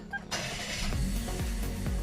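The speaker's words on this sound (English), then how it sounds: "put your foot on the brake and hit the button to start" A 2020 Perodua Bezza Advance car engine fires up by push-button start, a sudden burst followed by a steady low idle that continues to the end, heard from inside the cabin.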